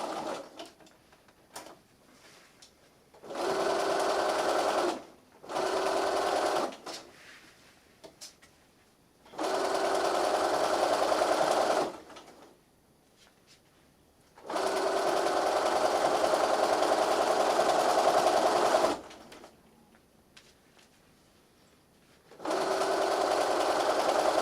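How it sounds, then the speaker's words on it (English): A sewing machine stitches fabric around the curves of a plush bunny in several steady runs of a few seconds each, split by quiet pauses as the work is turned. The motor hums close and clear, with no voices. "Machines want to sew in a straight line, so we just have to very gently help them deal with curves."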